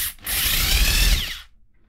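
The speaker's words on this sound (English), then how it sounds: "So if I put it in a drill," A power drill spins a punch bit for synth DIY work, giving a loud, dense whirring grind for about a second and a quarter before cutting off abruptly into quiet.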